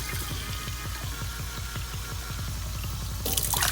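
Water pours steadily into a pot of rice on a kitchen counter, measured out cup by cup for cooking, with a continuous splashing stream that swells louder near the end.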